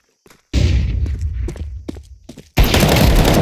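A flashbang grenade bursts in Counter-Strike 2 with a loud, sudden broadband blast that sweeps high and full, following earlier sharp thumps and gunfire-like hits, the blast holding strong to the end.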